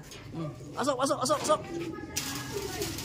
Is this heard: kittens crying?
no